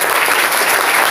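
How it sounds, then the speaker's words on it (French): A church congregation breaks into dense, steady applause during a worship service, loud and continuous with no gaps, filling the whole moment without any voice over it. "Applaudissons pour le Seigneur."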